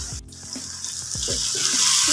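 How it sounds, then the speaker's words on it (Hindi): Water is poured into a pan of pumpkin sabzi as it cooks, a close, steady splashing rush that builds slightly in loudness, with brief clinks at the start. "पानी ऐड करेंगे"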